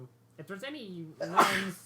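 A single sharp sneeze bursts out near the end, right after a man's brief spoken words, close and fairly loud.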